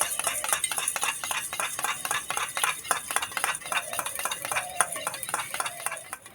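Four eggs are beaten by hand in a bowl, a fast, close rhythmic clatter of the utensil against the bowl that keeps going throughout.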